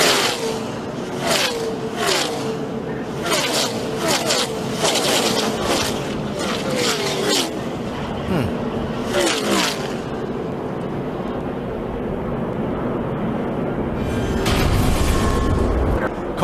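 At Daytona International Speedway, NASCAR stock cars roar past in quick bursts, then one is hit and crashes with heavy scraping and impacts, followed by a lower rumble and a final surge of noise. A commentator talks throughout.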